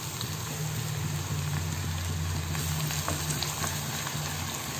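Big onions sauté in hot oil in a pan, a steady dense sizzle with a low hum under it, continuous and fairly loud with no talking.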